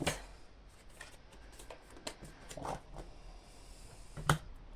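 Oracle cards shuffled by hand, a soft, close riffle of rustling flicks and slaps that is fairly quiet, with one sharper snap of cards near the end and no voices.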